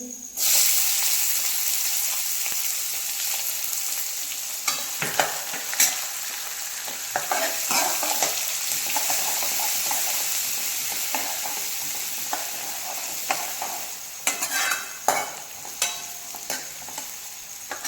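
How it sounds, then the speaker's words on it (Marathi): Chopped onion sautés over a high gas flame, a continuous loud sizzle broken by frequent sharp scrapes and clanks of a spatula stirring the pan. "आता इथे कांदा आपल्याला फक्त दोन मिनिटच परतवून घ्यायचा आहे आणि ते गॅसचे फ्लेम हाय आहे"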